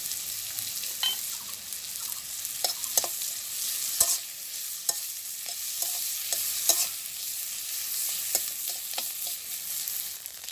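Onion and green chilies frying with egg in oil in a pan in a village kitchen, a steady close sizzle broken by repeated scraping stir strokes.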